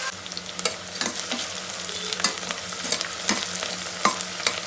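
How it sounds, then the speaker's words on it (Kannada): Onions fry in hot oil for chicken biryani with a constant crackling sizzle, punctuated by repeated sharp scraping and clicking of a spoon stirring the pan, close and clear with no voices. "ಸೊ ಇದನ್ನು ಚೆನ್ನಾಗಿ ಇವಾಗ ಎಣ್ಣೆ ಜೊತೆ ಫ್ರೈ ಮಾಡ್ಕೊಳ್ಳೋಣ."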